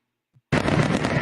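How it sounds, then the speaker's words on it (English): A fireworks sound effect starts after a brief silence as a sudden loud, broad crackling burst that carries on steadily to the end, with no talking. "Oh, wait, where's my fireworks?"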